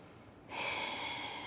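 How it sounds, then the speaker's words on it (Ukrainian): A deep breath is drawn in sharply during a breathing exercise, a close, breathy rush of air that starts abruptly and holds steady. "рекомендую зробити просто такі дихальні вправи. Набрати, глибоко затримати,"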